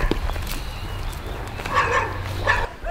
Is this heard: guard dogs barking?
yes